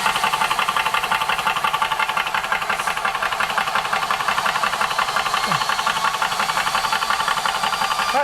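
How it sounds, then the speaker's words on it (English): A VEVOR PCP air compressor runs steadily at close range, a constant mechanical drone with a fast knocking pulse and slight rattle, unbroken throughout with no voices. "Compressor."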